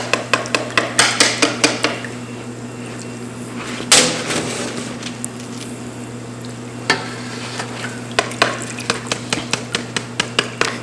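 A metal sieve holding fried bread doughnuts is tapped and shaken repeatedly against a pot of oil, giving a series of sharp rhythmic clacks and rattles with faint sizzling beneath and a steady low hum.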